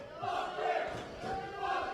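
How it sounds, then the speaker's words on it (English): A wrestling arena crowd roars and jeers in waves at a wrestler in the ring, a broad, moderately distant swell of many voices rising and falling over two seconds. "Crowd not too keen on Josh Briggs."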